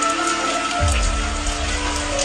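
Rain falls outside where horses stand near their barn, giving a steady patter of drops on surfaces with a low rumble beneath, constant and fairly close.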